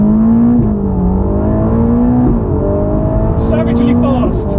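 A Ferrari Roma accelerating on the road, its engine note climbing through the gears with a steady droning hum and brief shifts, heard from inside the car, loud and continuous.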